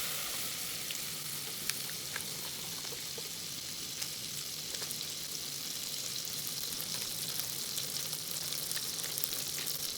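Butter sizzles and browns in a hot pan on a stovetop burner, a steady close crackle with scattered sharp pops and spits, with no talking over it.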